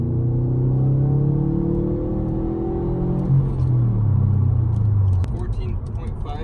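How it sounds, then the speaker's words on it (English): A Subaru STI with a Cobb Accessport on a stage 1 map pulls hard at full throttle in sport mode, its engine note climbing steadily, dropping at a gear change and rising again, loud and droning from inside the cabin. "we're gonna try to do a little 30 gear pull in sport mode on full throttle."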